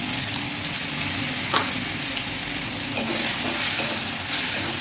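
Cumin, green chilli, turmeric and tomato paste fry in oil with a steady, close hiss, punctuated by a couple of sharp spoon taps and light stirring.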